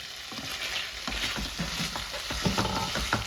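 Ginger chicken stirred in a pan after cooking under a lid, with soft scraping strokes over a gentle, steady sizzle, close by with no talking.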